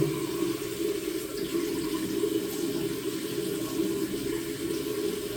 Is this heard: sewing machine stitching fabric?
no